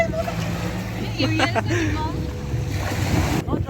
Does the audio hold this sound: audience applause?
no